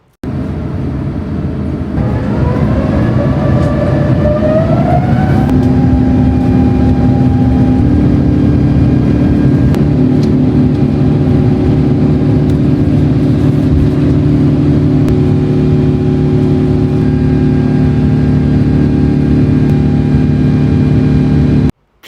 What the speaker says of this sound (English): we arrived at the runway and it was time to take off.